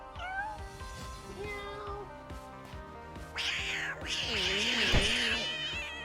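A cat character in Powerwash Simulator 2's Adventure Time DLC meows several times, with drawn-out, rising and falling cries that grow louder and more strained toward the end, over steady game background sound.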